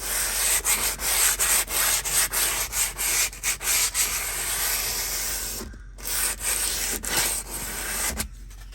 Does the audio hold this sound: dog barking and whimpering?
no